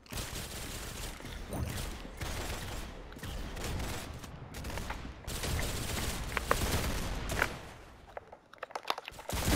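Rapid gunfire from the video game Roblox rattles almost continuously, dense volleys and bursts that sit loud and close throughout, thinning out near the end.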